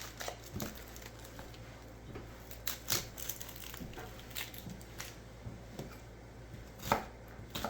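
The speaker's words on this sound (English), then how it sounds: "we're gonna chop up 1/2 cup of onion" A knife chops a small onion on a cutting board for meatloaf, irregular crisp close taps, some single and some in quick bursts, with no talk.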